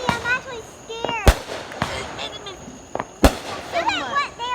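A handful of loud, separate firework booms land among rising whistling streaks. Voices can be heard talking between the blasts.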